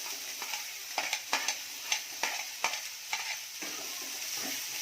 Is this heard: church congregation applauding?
no